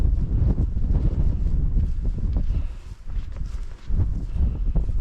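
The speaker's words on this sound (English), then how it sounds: "it's quite gusty" Strong gusty wind buffets the microphone at a hilltop cliff edge near Ben Brack, a loud, continuous low roar that surges and dips briefly before gusting up again, with no voices.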